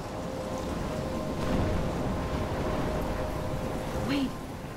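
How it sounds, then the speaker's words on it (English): Steady heavy rain with rumbling thunder fills a stormy scene in the video game Life is Strange, a continuous wash of downpour with a louder swell midway, no talking. "I'm trapped in a storm?"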